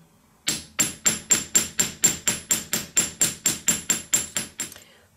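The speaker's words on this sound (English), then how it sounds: "I'm going to hammer texture it" A modified ball peen hammer strikes sterling silver sheet in a steady run of about sixteen sharp, ringing taps, close and evenly spaced.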